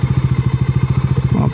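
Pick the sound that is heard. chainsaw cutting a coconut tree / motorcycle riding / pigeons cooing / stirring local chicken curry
motorcycle riding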